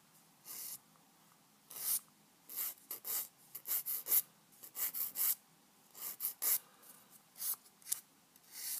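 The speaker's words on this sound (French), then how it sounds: "avec le lime, vous le faites au sens inverse, comme ça, ça va s'enlever" A nail file rasps back and forth against false nails, scraped in the reverse direction in a series of short, dry, close strokes with brief pauses between them and no talk.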